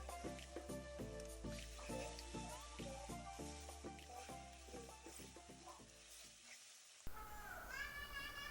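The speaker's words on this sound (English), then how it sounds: "Now add 1 tablespoon of ginger paste and 1 tablespoon of garlic paste and then fry them." Ginger and garlic paste sizzling in a pan for a chicken curry, a steady crackle with rhythmic stirring scrapes, faint and close, and a louder hiss near the end.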